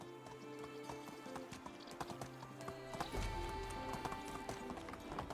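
Horse hooves clip-clopping at a steady trot in the medieval village game Medieval Dynasty, with an occasional whinny, a little louder after the third second, over game background ambience and faint music.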